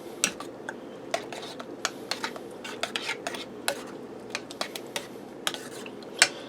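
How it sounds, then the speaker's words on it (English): A spoon stirs a chili hot dog tater tot casserole mixture just after Worcestershire sauce goes in, giving scattered sharp clinks and scrapes against the dish over a steady low hum, with no talking. "I'm going to give that a quick stir to mix everything together"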